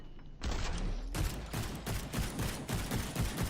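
Rapid video game gunfire from a developer playtesting their own shooter, a dense rattling burst of shots that starts abruptly and keeps pounding steadily and loud throughout, with no talking.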